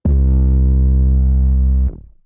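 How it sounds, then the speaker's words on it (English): One sustained 808 drum-machine bass note pushed through a vintage distortion pedal, loud and thick with gritty harmonics, holding for nearly two seconds before cutting off with a brief decaying tail; no voices. "these 808s were ran through a distortion pedal like that"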